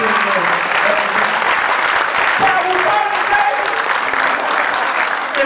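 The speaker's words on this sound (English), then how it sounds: "Hand claps to you guys." Sustained applause from a convention audience at a Rise of the Teenage Mutant Ninja Turtles panel at San Diego Comic-Con 2018, dense, loud clapping filling the hall with faint voices mixed in.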